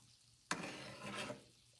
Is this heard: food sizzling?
yes